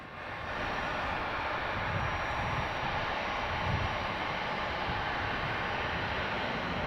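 Jet aircraft taking off and landing at DFW International Airport, heard as a steady, loud broadband engine roar with low rumble that holds throughout without pause.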